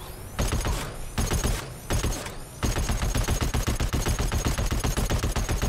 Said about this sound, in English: if he's just gonna let me mag dump a machine gun into him like that